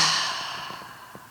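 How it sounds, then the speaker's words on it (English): A single deep breath during a beginner yoga session, a soft airy inhale loudest at the start and fading over about a second, close and alone. "Take a deep breath in."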